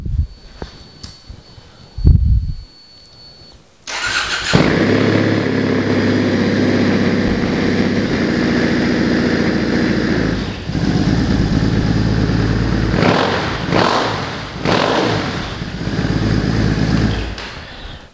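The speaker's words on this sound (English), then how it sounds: "the aero exhaust does have some sound to it. I'll start it up and let you hear it" A motorcycle fitted with an aero exhaust cranks, fires up and settles into a steady, loud, close idle with a deep, throbbing tone and a few brief revs, no voices heard.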